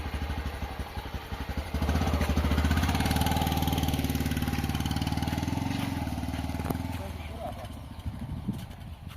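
A motorcycle engine idles with a steady, throbbing mid-range putter that swells after a couple of seconds and then slowly fades, while voices talk nearby.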